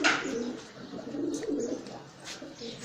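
Large pigeons coo steadily nearby, a low rolling murmur carried through the whole stretch with a few sharper bursts on top.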